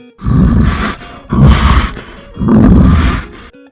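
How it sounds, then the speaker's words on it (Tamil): Three long, deep groaning moans from a frightened bear, each lasting about a second with short pauses between, loud and close. "ஆபத்து வரும்போது இல்லனா அதிகமா பயந்து போயிருக்கும் போது இப்படி கரடி முனகம்"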